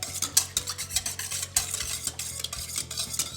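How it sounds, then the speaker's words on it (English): A whisk beats sugar into milk in a bowl, a rapid series of close, metallic clicks and scrapes in an uneven rhythm with no talking. "Keep stirring, it's almost dissolved."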